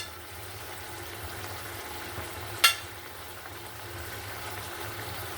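Oil poured into a pan for cooking hilsa fish gives a soft, steady frying sizzle, broken once by a brief sharp clatter.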